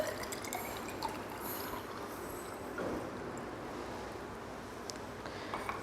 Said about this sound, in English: we will make up the volume of this up to 50 ml with the help of distilled water